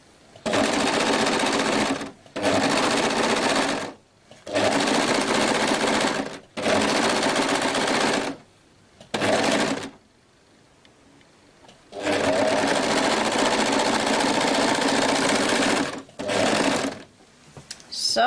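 A sewing machine stitches the seam of a girl's dress in long loud bursts of rapid whirring, each run separated by short pauses, with one longer gap midway.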